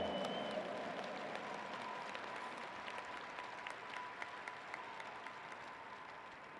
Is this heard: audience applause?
yes